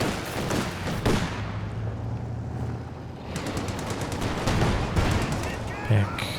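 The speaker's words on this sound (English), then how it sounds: "The MG42 is locking this down." Sustained MG42 machine gun fire in a competitive World War II video game, loud rapid bursts rattling throughout with distant booms and battle noise, a commentator talking over the gunfire.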